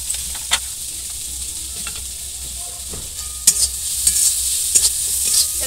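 Chopped ginger, coconut, turmeric and chili powder fry in a pan with a constant bright hiss, with occasional clinks and scrapes of a spoon stirring close by.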